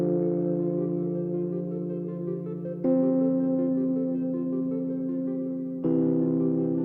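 Sustained synthesizer chords from Serum for a chillstep track play loud and smooth, with the chord changing twice at roughly three-second intervals and no voices.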